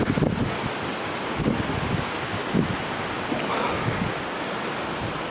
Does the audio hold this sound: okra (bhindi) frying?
no